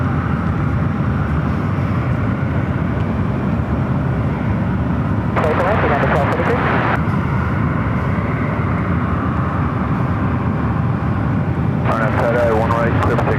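A Delta airliner bound for JFK lines up on runway one right at SFO, its engines a loud, steady roar throughout, with bursts of radio chatter cutting in twice.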